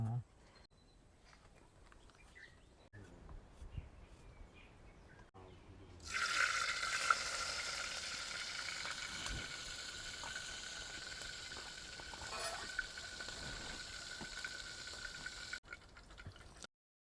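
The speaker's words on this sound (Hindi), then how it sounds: "महाराज जी की सब्जी प्रसादी पक रही है" Potato and tomato sabzi cooks in a pot over a sadhu's open fire in a hillside cave, a steady loud sizzling hiss that starts abruptly partway through and holds, with faint voices and fire noise before it.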